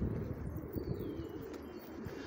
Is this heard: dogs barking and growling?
no